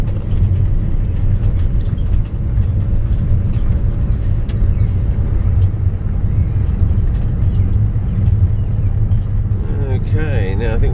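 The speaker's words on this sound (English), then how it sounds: "Okay, now I think we're going to park the car over here" Car driving slowly before parking, a steady low interior rumble of engine and road noise heard from inside the cabin, with a voice starting near the end.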